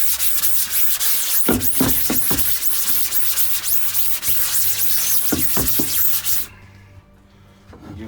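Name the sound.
scrubbing a screen printing screen with a haze remover scrubby pad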